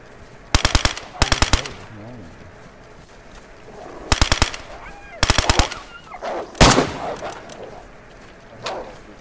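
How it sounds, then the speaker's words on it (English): Rapid bursts of automatic gunfire crack out in several short volleys, loud and close, with scattered shouting and game noise between the bursts, in the video game DayZ. "I gotta hear you guys shooting."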